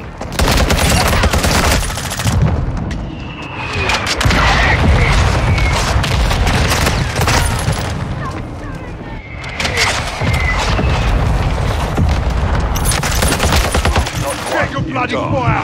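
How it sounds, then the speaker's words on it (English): Heavy mortar-strike explosions and gunfire in a Call of Duty: Modern Warfare 2 Kill Confirmed match, loud and dense throughout, with booming blasts and sustained rattling fire, faint whistling incoming rounds, and brief voice chatter underneath. "Hostile mortar strike near your position"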